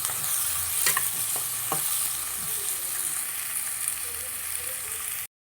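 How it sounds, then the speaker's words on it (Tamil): Chopped carrot, beans, ginger and curry leaves sauté in a hot pan for millet upma, sizzling loudly and steadily with a few spatula scrapes and stirring knocks near the start. "கொஞ்சம் ஒரு கேரட்டு, ஒரு பீன்ஸு, கொஞ்சம் இஞ்சி துண்டு, கொஞ்சம் கருவேப்பிலை இதையும் சேர்த்து நம்ம வதக்கி எடுத்துக்கலாம்"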